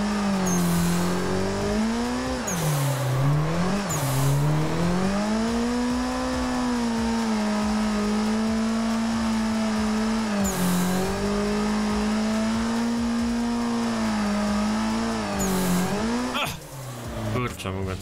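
A drift car in the Assetto Corsa simulator revs hard and steadily through a roundabout drill, its engine note rising and dipping with throttle while tire squeal flares up in bursts, loud and continuous throughout.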